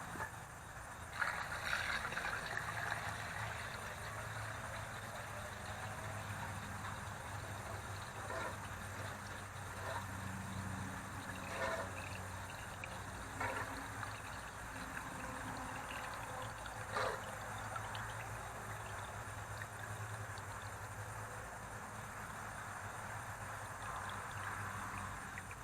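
Rainwater poured from a bucket through a funnel fitted with a sediment strainer, probably into a 1952 Ferguson TO-30 tractor. A steady, continuous trickling and splashing runs throughout at moderate level, with no talking.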